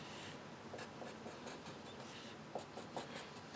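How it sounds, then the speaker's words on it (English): A hand sketches a rough horizontal parabola graph on a board or paper, giving soft, faint scratchy strokes in short bursts with a few quick taps, recorded close against a steady background hiss. "let's come over here and do a little rough sketch"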